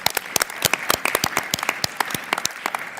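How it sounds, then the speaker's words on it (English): Audience at a university board of regents meeting giving a round of applause, with brief, irregular clapping from a modest crowd that is fairly close and unaccompanied by speech. "I give you another round of applause for all that you're doing"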